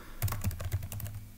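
Keys clatter on a computer keyboard as a terminal compile command is typed, a quick irregular burst of close, crisp clicks heard alone.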